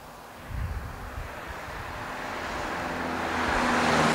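A Seat Ibiza 1.9 turbo diesel with 90 brake horsepower driving, a steady engine and road drone heard from inside that swells gradually louder toward the end.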